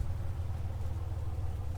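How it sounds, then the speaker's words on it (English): Piper Comanche 250 piston engine idling at the throttle stop in the A2A flight simulator, a steady low rumbling drone that holds even and unbroken throughout, with no voices. "So now, bring the throttle to idle. I like to bring it to the stop to see how the engine will idle."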